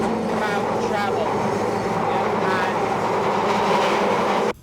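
A London Underground tube train runs with a loud, continuous rumble and clatter in the carriage, with steady rail noise throughout and a brief dip at the very end.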